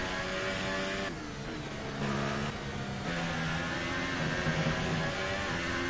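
Engine of a Formula 1 car in the racing game F1 2018, a steady loud buzzing whine with pitch shifts as the revs change, heard alone without talk.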